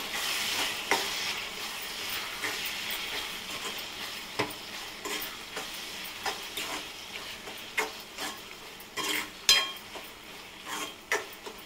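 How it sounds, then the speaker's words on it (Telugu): A spoon stirs and scrapes through a village-style prawn curry frying in a pan after garam masala is added, giving intermittent close scraping knocks over a steady soft sizzle. "ఇలా వేసిన తర్వాత బాగా కలుపుకోవాలండి"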